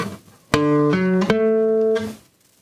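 A three-note chord of notes 6, 10 and 1 sounds as sustained, steady tones that shift voicing twice in quick succession, then hold clearly and alone for about a second and a half before fading out.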